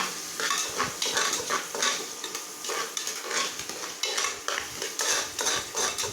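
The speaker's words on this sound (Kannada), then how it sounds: "ಇವಾಗ ಈರುಳ್ಳಿನ ಫ್ರೈ ಮಾಡ್ಕೋಬೇಕು. ಸ್ವಲ್ಪ ಹೊತ್ತು ಯೆಲ್ಲೋ ಕಲರ್ ಬರೋ ತನಕ ಅದನ್ನು ಫ್ರೈ ಮಾಡ್ಕೋಬೇಕು." Onions fry in a pan for spicy egg rice, crackling continuously while a metal spatula stirs and scrapes in quick, repeated strokes, close and fairly loud, with no voices.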